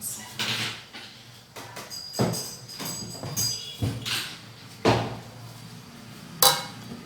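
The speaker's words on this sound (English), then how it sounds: "So we're gonna be breaking the garlic." Garlic cloves being broken apart for peeling, a series of sharp cracks and knocks at irregular intervals, close and fairly loud, with faint kitchen clatter between them.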